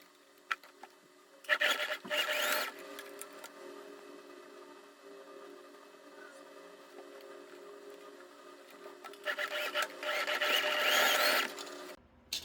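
A domestic sewing machine stitches a plus-size ring swimsuit in two loud bursts of rapid whirring, one short and early and one longer near the end, with a quiet hum between.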